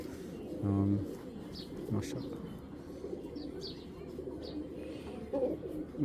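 Giribaz game-flying pigeons give low cooing calls with a few chirps among them, fairly faint against a steady background. A person talks over them.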